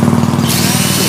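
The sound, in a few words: power drill drilling a hole into a tree trunk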